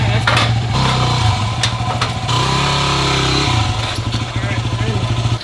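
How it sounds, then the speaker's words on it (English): A loud motorcycle engine runs steadily close by, with low rumbling revs, as the 300-pound bike is loaded onto a swing-away carrier on the rear of a van, and people talk over it. "It's time for the motorcycle."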